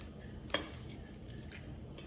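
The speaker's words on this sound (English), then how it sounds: "let me get a fork and stir that around" A fork scrapes and clinks against a pan as potatoes fry for homemade chips. One sharp metallic knock comes first, then lighter taps over a steady frying hiss.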